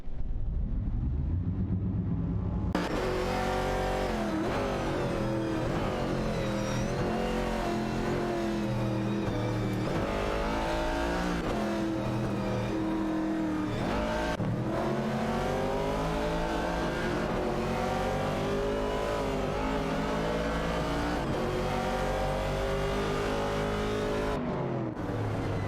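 Several classic Pontiac Firebird race cars roar through an AI racing game, engines revving loud and continuous with gear-shift swells and passing surges, no voices over the steady engine din.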